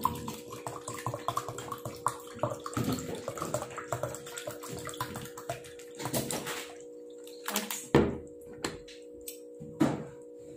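Water runs steadily from a tap while something is rinsed until the water clears, with splashing and occasional clunks that become more sporadic toward the end. The sound is close and moderately loud, and no one speaks.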